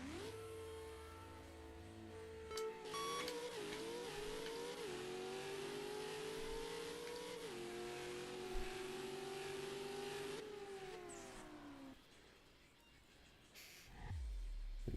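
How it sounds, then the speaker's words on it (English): A drag racing car in the No Limit 2 video game revs hard and climbs through its gears in quick succession, each shift dropping the engine pitch before it climbs again, loud and continuous, then fading near the end. "This car really goes through the gears quick"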